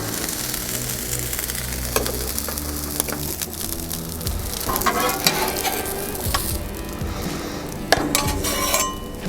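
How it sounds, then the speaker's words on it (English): Meat and beans stirred together in a pot on a Blackstone griddle, with steady sizzling and frying under repeated scraping, clinking spoon strokes against the metal, close and continuous. "Now we're going to combine the meat and the beans together in the pot."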